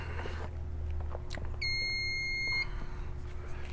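RCBS ChargeMaster powder dispenser gives a single sustained electronic beep about a second long, clear and moderately close, over a low steady mechanical hum in a quiet room.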